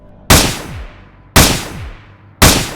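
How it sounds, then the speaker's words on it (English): Three loud, sharp gunshots ring out, evenly spaced about a second apart, each with a quick echoing decay. "gunshots."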